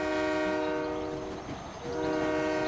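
A circus train pulling in within a cartoon, sounding a long sustained multi-tone horn that holds steady, dips briefly, then swells again over a rolling rumble, loud and close with no talk.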